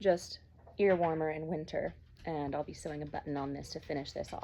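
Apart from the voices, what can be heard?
None of the usual background noises is heard.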